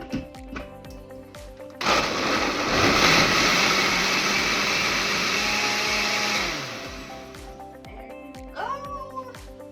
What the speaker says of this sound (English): I'm gonna be covering that blender and gonna go ahead and get started